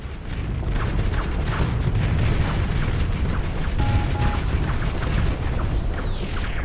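Weapons fire in the space combat game Starsector, including energy arc cannons and ballistic guns, forms a dense and continuous roar of booms and bursts with no pauses.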